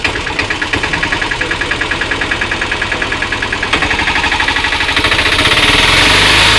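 A Mahindra Alfa DX three-wheeler's engine runs loud and close, a rhythmic chugging idle with regular knocking pulses that rises toward a harder rev near the end, no voices.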